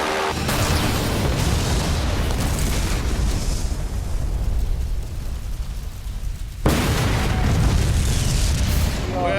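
A special effects explosion on a film set: a deep, rumbling boom that rolls on and slowly fades, followed by a second sudden loud blast near the end.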